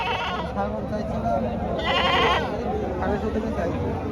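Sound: goat bleating at livestock market

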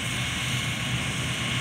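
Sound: Claas Lexion 405 combine harvester engine

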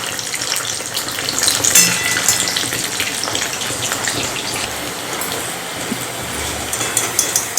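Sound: jowar flour mutke deep frying

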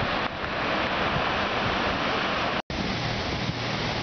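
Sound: roaring water at hydroelectric plant tailrace

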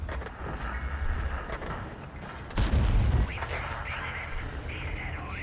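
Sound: tank cannon fire in video game

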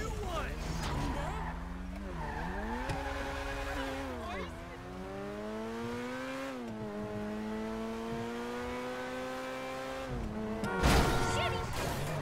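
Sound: car driving and skidding in video game GTA 5

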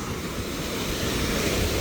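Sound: sea waves breaking on a Portugal beach

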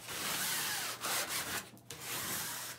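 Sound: hand sanding wooden kitchen cabinet with sandpaper

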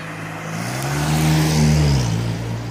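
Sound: car passing by behind

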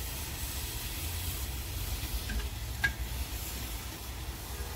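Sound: chicken curry cooking in cow's ghee

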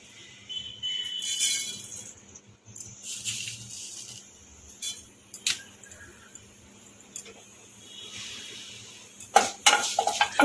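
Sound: mustard seeds spluttering in hot refined oil

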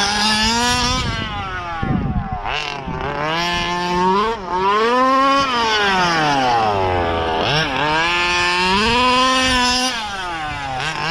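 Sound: 1/5 scale gas RC Baja with clone carburetor at half throttle

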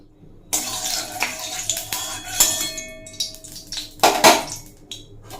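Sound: pouring mustard oil into hot wok

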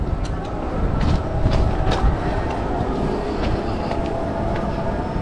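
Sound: train at station

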